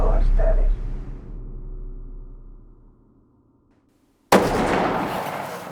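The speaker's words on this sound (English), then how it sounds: "When I touched that trigger off and saw the muzzle flash in my scope" A single loud, sharp rifle shot fired at a deer during a ranch hunt. It comes suddenly after quiet talk and a stretch of near silence, then rings on with a rolling echo.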